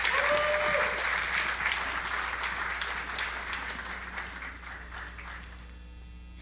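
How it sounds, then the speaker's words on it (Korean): Conference audience at a Korean business convention applauding as two speakers are welcomed to the stage, a sustained crowd clapping that starts full and gradually tapers off. "다시 한번 큰 박수로 환영해 주시기 바랍니다."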